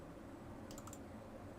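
Several quick computer mouse clicks in a short, close burst while working in SplitCam software, faint over a steady low background hiss.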